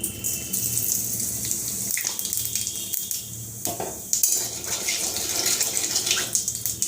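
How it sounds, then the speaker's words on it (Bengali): Whole cumin seeds sizzle in hot oil in a pan for a Bengali fish dish, a steady loud crackling hiss that runs continuously with brief surges and no talk. "তেলটা গরম হয়ে গেছে দিয়ে দেবো গোটা জিরে ফোড়ন"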